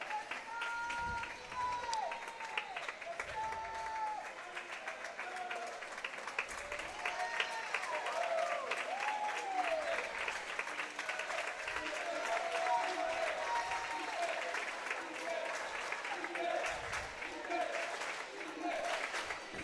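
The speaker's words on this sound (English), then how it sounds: "Crowd all chanting Ethan's name" Swim meet crowd in a pool hall cheering and rhythmically chanting a swimmer's name as he finishes the final freestyle relay leg, steady roaring noise with whistles and shouts throughout.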